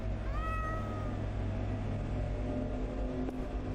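A cat in the video game Hob's Barrow gives one short, rising meow over a constant low rumbling ambience, followed by a faint tap.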